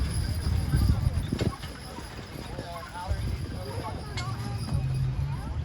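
Belgian six-horse hitch pulling a wagon in a heavy horse driving class at a fair, hooves clip-clopping on the ring beneath a loud announcer voice and crowd murmur.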